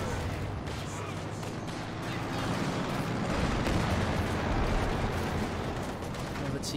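Aircraft strafing run in a strategy video game, a dense sustained rattle of rapid gunfire and low rumbling that swells in the middle, with voices of commentators present underneath.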